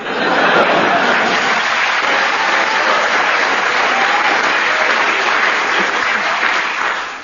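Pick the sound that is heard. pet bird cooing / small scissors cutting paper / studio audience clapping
studio audience clapping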